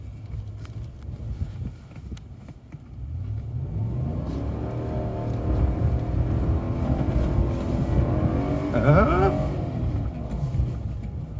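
A 2022 Ram truck doing donuts with traction control off and locked in first gear, its engine droning and revving up toward the rev limiter, which cuts the power back, with wind buffeting the microphone and people talking over it.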